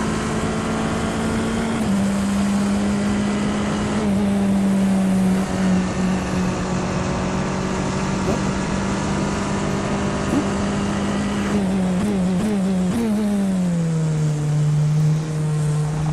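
A Tatuus F3/F4 single-seater race car in the rFactor 2 sim, its engine a loud continuous buzzing drone held at steady pitch, stepping through gear changes with brief rises and a drop near the end.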